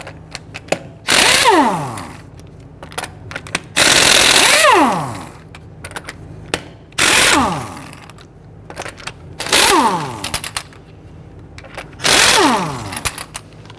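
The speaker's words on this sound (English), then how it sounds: "Using a 19mm socket, loosen and remove the lug nuts." Impact tool with a 19mm socket spinning off the lug nuts on a rear wheel of a 2010-2019 Ford Taurus: five loud, close whirring bursts, each winding down, separated by short pauses and clicks, with no talk.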